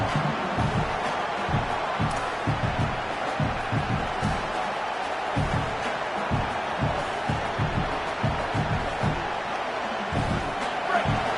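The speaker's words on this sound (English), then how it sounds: "This crowd trying to make life miserable for this offense." Stadium crowd at a football game gives a steady, roaring wash of noise throughout, with rhythmic thumping stomps or claps pulsing underneath, loud and continuous.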